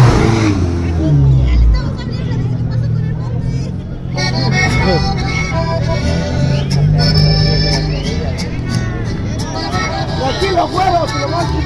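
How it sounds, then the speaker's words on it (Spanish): A car engine revs and roars at a street drag race in Molcaxac, loud and close with rising and falling pitch, while a crowd of people talk and shout over it. "ahí va el coche, ¿verdad?"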